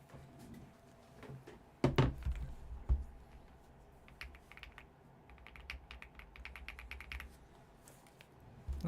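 Keys clatter on a Razer computer keyboard in quick irregular bursts, fairly quiet and close, with a few heavier thumps and short pauses between runs of typing and no one speaking.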